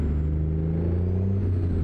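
A deep, steady engine rumble from a 389 truck in American Truck Simulator, lugging at low RPM under load as the clutch is let out; a continuous close drone with no talk.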